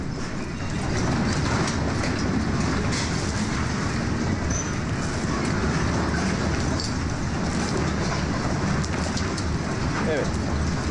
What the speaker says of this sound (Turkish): Bu depremin sesi mi hocam?